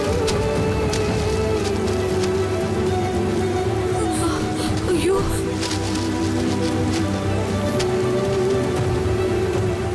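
Heavy rain pours down steadily near a house and well, a dense, loud hiss and patter that continues unbroken with no voices.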